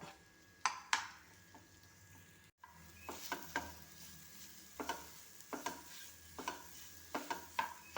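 Banana cooks in ghee for a sweet dish: a soft, low sizzle runs throughout, broken by a string of light scrapes and clinks from a utensil stirring the pan, with no talk.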